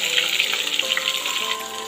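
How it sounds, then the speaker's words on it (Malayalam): Fish sizzling in hot coconut oil with curry leaves in a pan, a steady bright crackle and hiss with small spattering pops throughout, close and fairly loud. "മീൻ ഇട്ടിട്ടുണ്ട്. നമുക്ക് നന്നായിട്ട് ഫ്രൈ ചെയ്തെടുക്കാം."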